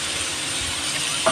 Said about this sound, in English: while it's busy frying, continue to stir around.